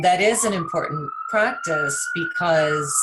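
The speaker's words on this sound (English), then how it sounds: "I'm sorry for the sirens in the background." A police siren wails steadily in the distance, a sustained rising tone running underneath a person's continuous speech throughout.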